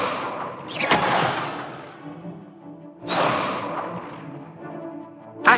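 Incendio fire spell cast in the Hogwarts Legacy video game, two whooshing fiery bursts about two seconds apart with rumbling tails, then a short sharp hit at the end.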